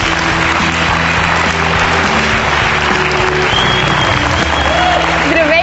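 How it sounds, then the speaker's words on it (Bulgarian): A live show audience claps and applauds continuously, a dense wash of hand claps with a voice speaking over it toward the end. "Аплодисменти за Георги Ванелинов!"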